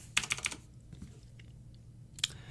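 Computer keyboard keys clack in a quick burst of four or five close, crisp taps. After a quiet pause, one more tap follows. No one speaks.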